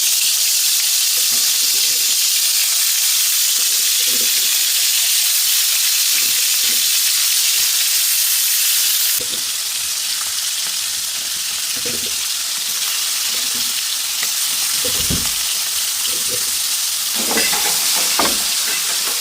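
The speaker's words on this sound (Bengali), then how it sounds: "তেল গরম হয়ে গেছে এবং বিসমিল্লা বলে মাছ দিয়ে দিচ্ছি" Koi fish marinated in turmeric and chili frying in hot oil, a loud, steady crackling sizzle throughout, dotted with scattered soft bumps and spatters and a brief shift in intensity midway.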